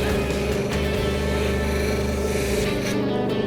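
Continuous close rubbing and scraping as a carving tool's edge is honed to a polished finish, steady and even for a few seconds with no talk.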